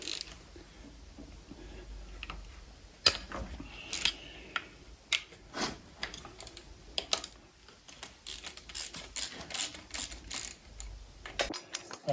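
Wrench work taking a bracket off a 2.7 diesel V6 engine: quiet close ratchet clicks and small metallic taps in short irregular bursts, with brief pauses between.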